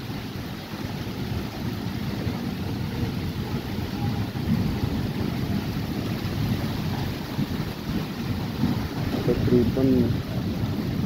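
Heavy rain pours down on a flooded Lahore street at early morning, a steady dense hiss with low rumbling wind noise throughout, while someone talks faintly over it.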